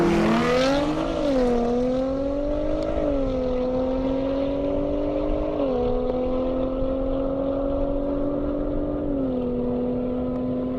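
A Nissan GT-R Nismo drag racing down an airstrip, its engine note climbing through several upshifts in a steady staged pattern, heard from a moderate distance and gradually receding.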